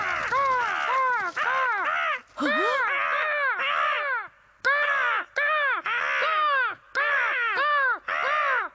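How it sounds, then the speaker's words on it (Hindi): Cartoon crows caw in loud, harsh bursts, several birds calling in quick overlapping groups with short pauses between the volleys, close and clear with no talk. "कौवों ने किया हम सबको परेशान"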